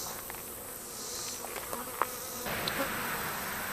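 A honey bee swarm buzzing around a hive box, a dense continuous drone of many bees close by with a few individual bees zipping nearer, no talking.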